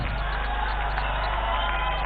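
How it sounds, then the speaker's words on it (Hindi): Large outdoor crowd at a political election rally cheering and clapping, a loud steady roar of voices and applause filling the whole stretch without a break. "ताली बजाओ जोर से"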